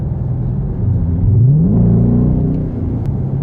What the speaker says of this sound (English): I can't even tap on the gas without having the car push me back.